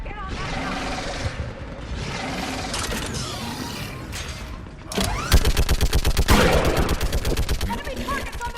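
Rapid mounted-gun fire in the video game Mass Effect 3, a steady fast burst of loud repeating shots following a stretch of dense battle noise and mechanical clatter.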